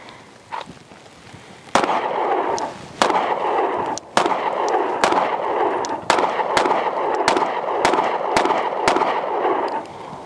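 A Monsoon Tactical Lucky 7 Glock-pattern pistol with a Holosun SCS optic and Timney AlphaClip trigger fires about a dozen sharp shots outdoors, a few spaced apart at first and then a steady quicker string, loud and close.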